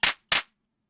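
Synthesized clap layer from an Elektron Digitone 2 synthesizer, two sharp noisy bursts in quick succession, dry and isolated, then silence.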